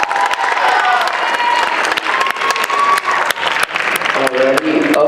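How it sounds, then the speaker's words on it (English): An audience at a spoken word showcase applauds a performer, loud dense clapping with a few whoops and cheers, and voices rising over it toward the end. "Another round of applause for Dominic."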